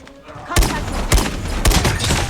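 Three loud, evenly spaced rifle shots from an SKS in Call of Duty Mobile, each a sharp broadband crack with a short decay, over a steady layer of game ambience.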